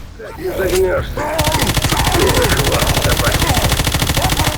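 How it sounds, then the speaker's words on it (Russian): Rapid automatic gunfire from Left 4 Dead 2 in a sun-baked desert setting, a dense, steady stream of loud shots running continuously after a brief opening with a voice talking over it. "Ну я ж по ногам стреляю"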